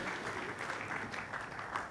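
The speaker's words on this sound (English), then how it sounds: "another round of applause for the Uganda Securities Exchange" Audience applause for the Uganda Securities Exchange at an MTN Uganda listing ceremony, a steady, moderately distant round of clapping that holds evenly for the full length with no voices over it.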